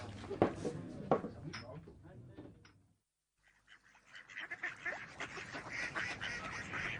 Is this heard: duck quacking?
yes